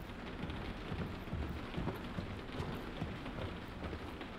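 Steady rain in the horror video game Daymare 1998, a dense continuous hiss with soft patter at moderate level, no talking over it.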